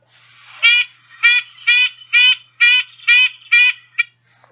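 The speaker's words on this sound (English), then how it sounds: "one final listen of our red-breasted nuthatch. Tiny car horn." A red-breasted nuthatch gives a series of seven or eight nasal, toy-horn-like calls at an even, steady pace, close and clear against silence.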